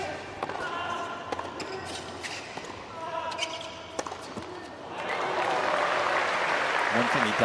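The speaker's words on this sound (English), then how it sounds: "which is why the round of applause has come." Tennis spectators at a United Cup match in Sydney break into a round of applause, starting from scattered claps amid court sounds and a commentator's voice, then swelling into broad, sustained clapping.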